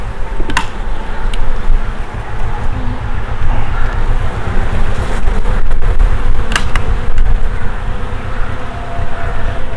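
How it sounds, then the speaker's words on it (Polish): A dense, loud buzzing of many honeybees close up at an open hive, steady and continuous, with occasional light knocks and rustles. "Pszczoły bardzo intensywnie noszą pyłek"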